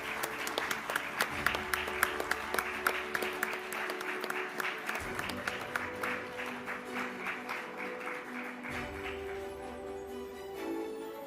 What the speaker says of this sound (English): Please give a big round of applause for Dr. Sonali Ghosh